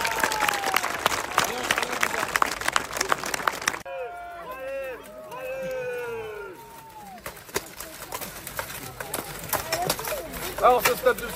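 An outdoor crowd at a medieval festival at Château de Thillombois applauds fighters leaving the arena: dense, close clapping that breaks off while someone speaks, then swells again toward the end.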